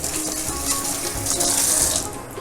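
Steady splashing of running tap water over halved papaya being washed in a sink, continuous and close for the whole stretch.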